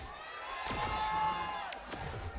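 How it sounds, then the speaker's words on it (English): Crowd cheering and shouting at an esports grand final in a large arena, a sustained wash of voices with a few sharp whoops and bangs, moderately loud and reverberant. "Good response coming through from the crowd, from the fans of GodLike as well as S8UL"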